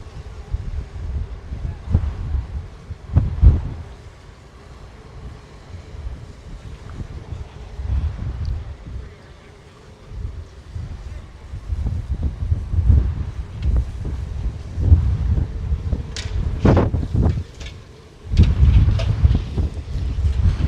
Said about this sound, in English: It's windy out here, guys. So windy.